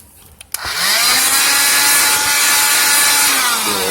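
Power drill boring a hole in a Strat-style guitar pickguard with a spade bit, a loud close grinding whir that starts abruptly after a few light clicks and holds steady to the end.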